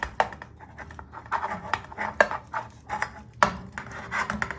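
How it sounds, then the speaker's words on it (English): Greasing mince pie tin cups, with fingers rubbing and scraping around metal cups in quick, uneven strokes, close and moderately loud. "So you're just going to give them a good rub."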